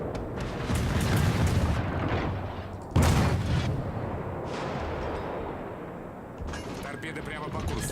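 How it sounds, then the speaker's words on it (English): Warship guns boom in a World of Warships naval battle, heavy broadband blasts recurring through the clip with one sharp loud shot near the middle, over continuous rumbling game noise and someone talking. "You can keep firing because that vampire is pretty vulnerable."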